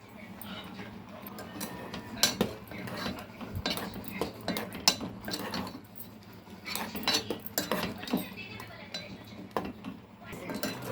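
Curry stirred in a pot on a low simmer, a spoon scraping and clinking against metal in irregular bursts, close up, while someone talks over it.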